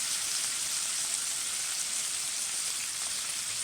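Vegan shrimp sizzle steadily in a hot pan, making a continuous, even hiss of frying that stays close and moderately loud throughout with no talking.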